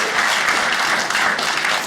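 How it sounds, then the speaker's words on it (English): A comedy club audience applauds a newly married couple during a stand-up set, a steady, dense wash of clapping with no voices over it. "Give him a round of applause."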